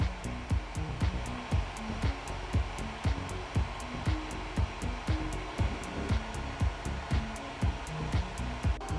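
A 3D printer begins a print in translucent PETG with the nozzle heated to 245 degrees, giving a steady fan whir under fast, evenly spaced mechanical ticks that run throughout, close and without any talking.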